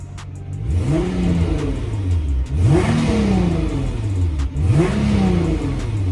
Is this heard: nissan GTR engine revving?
yes